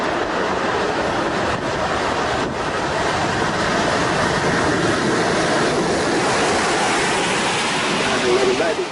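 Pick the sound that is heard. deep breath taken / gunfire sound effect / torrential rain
torrential rain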